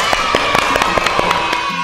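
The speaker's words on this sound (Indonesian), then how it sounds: "Yuk kita beri tepuk tangan" An audience applauds at a Sunday school anniversary celebration in a church, a dense, steady patter of many hands clapping together, loud and close, with a few sharper claps standing out and no talking.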